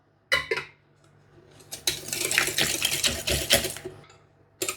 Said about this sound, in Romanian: și tot așa batem până când facem crema aceea care ne-o dorim.